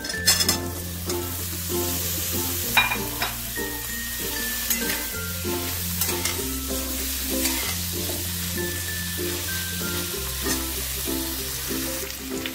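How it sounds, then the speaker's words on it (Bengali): Cubes of paneer fry in melted butter in a pan, a steady close sizzle with repeated scraping and stirring strokes that come in a regular pattern throughout, with no talking. "এবারে আমি পনিরগুলোকে ভেজে নেব বাটারের মধ্যে।"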